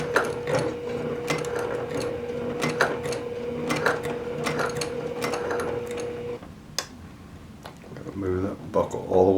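A sewing machine stitching a courier bag, its needle mechanism clattering in quick uneven runs with pauses, close by, while a person talks over it and a fabric rustle follows near the end.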